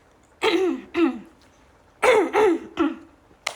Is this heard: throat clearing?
yes